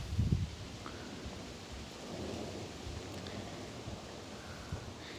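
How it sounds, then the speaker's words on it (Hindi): Wind blows steadily through leaves in shade on an outdoor walk through the German city of Oberursel, a soft broadband rustle with a low gusty rumble near the start, continuous and moderately quiet with no talking. "हवा चल रही है"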